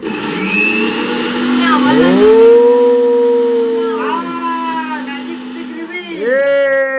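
A kitchen mixer grinder runs in a home with a loud, whining motor hum whose pitch rises, falls and bends over seven seconds, with people talking over it.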